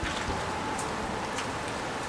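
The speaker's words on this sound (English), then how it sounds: "it's really pouring now." Heavy rain pouring in Kyoto, a continuous dense hiss of water on surfaces at moderate volume, with a few sharper drip splashes over the steady wash.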